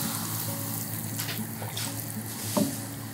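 Water steeped with plant material boils in a covered pot on a stove, a steady close bubbling hiss with small pops and a brief louder bubble near the end.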